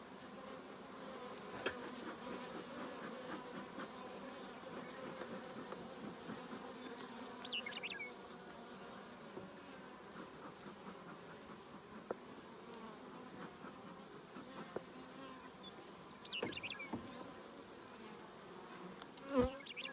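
Honey bees buzz steadily around an open beehive in a bee yard, a soft continuous hum with individual bees flying close past the microphone and occasional light clicks of frames being handled.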